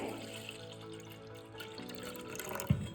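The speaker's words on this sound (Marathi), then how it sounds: "वरती तांबूस असं पाणी दिसतंय ते आपण हलक्याच हाताने काढून घ्यायचं आहे" Rust-tinged soaking water gently poured off wheat grains that have soaked for eight hours, a soft continuous trickle and slosh of liquid close by, steady throughout with a small splash near the end.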